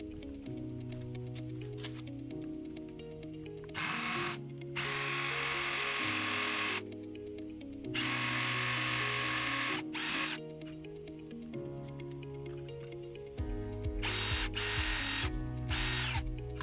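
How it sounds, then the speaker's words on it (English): A power drill whirs in repeated bursts, drilling out a small hole in blind hardware so Tapcon screws will fit; loud and close, with pauses between runs and a steadier final stretch. "I'm gonna basically drill it out so I can install the Tapcon screws"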